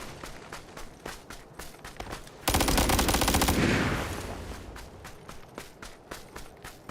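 Sharp metallic hits strike a pan again and again in a quick, regular rhythm, broken midway by a loud dense burst of rapid impacts lasting about a second before the steady clanking resumes.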